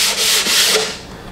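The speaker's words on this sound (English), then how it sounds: "I'm sanding with 220 just to, because the shellac kind of raised the grain a little bit" A few quick, close rasping strokes of fine 220-grit sandpaper over a smooth shellac-finished quarter-sawn oak surface, loud and dry, then fading.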